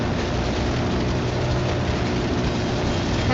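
Chopper gunner helicopter in the Cold War Zombies video game, a loud, dense, steady rotor and engine roar that stays constant throughout with no pauses.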